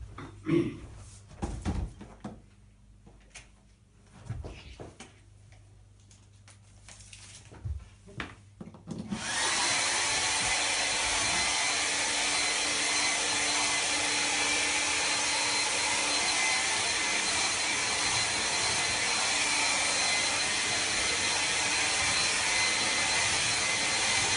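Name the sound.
hair dryer drying a watercolor painting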